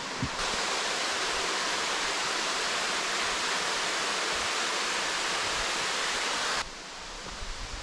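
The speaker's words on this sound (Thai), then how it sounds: "ตัวน้ำตกผลพบเป็นเหมือนขั้นบันไดเลยนะครับ เดี๋ยวขอนั่งพักดูความงามของน้ำตกแป๊บหนึ่ง" A tiered, step-like waterfall at Phu Kradueng, Thailand, pours in a steady, dense rushing roar that stays loud and even throughout, cutting off near the end.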